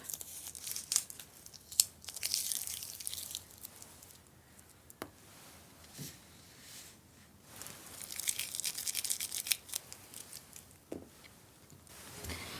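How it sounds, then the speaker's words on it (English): Masking tape is peeled slowly off non-watercolour paper in several drawn-out tearing strips, close and crisp, with crinkling rustles and pauses between pulls. "I'm going to remove the masking tape."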